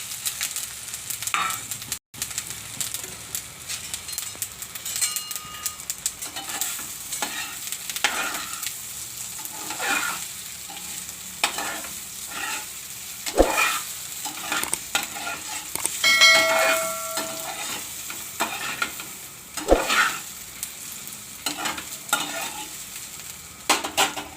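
Muthiya dumplings with sesame seeds fry in a pan and are stirred, giving a continuous close sizzle broken by repeated scraping strokes and light clinks of the spoon, with no talk.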